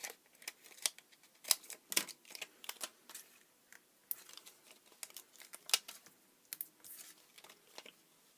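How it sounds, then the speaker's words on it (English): Scissors snipping 3D foam dots in half while crafting a star birthday box card, a quiet string of sharp, close crisp snips and small crinkles coming at an uneven pace. "She might even cut them in half."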